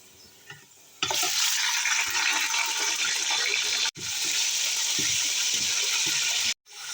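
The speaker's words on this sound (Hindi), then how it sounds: "लहसुन प्याज के साथ चिकन को फ्राई कर लेना 3 से 4 मिनट।" Chicken frying with browned onions and garlic in about a cup of oil for aloo chicken pulao, with a loud, steady sizzle that starts suddenly and runs on with two brief breaks.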